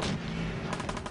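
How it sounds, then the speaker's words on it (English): Gunfire in a modded first-person shooter, a dense burst of overlapping shots filling the whole moment at steady loudness, with no voices. "I hear gunfire on my right"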